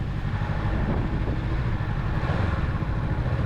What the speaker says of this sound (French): Il est en train de garer sa lourde moto.